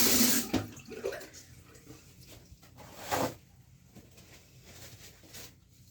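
Tap water runs over a makeup brush as it is rinsed, a steady close wash with brief louder splashes near the start and again around three seconds, then a softer trickle.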